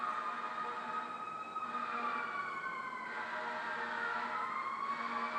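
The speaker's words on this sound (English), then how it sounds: "Hearing these sirens" Emergency vehicle sirens wail continuously, rising and falling in long sweeping tones at a moderate distance over steady background noise, with no voices.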